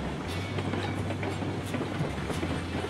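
A locomotive runs along the rails in the video game Railroads Online, with a continuous rolling rumble, low engine drone and a steady clickety-clack of wheels over rail joints.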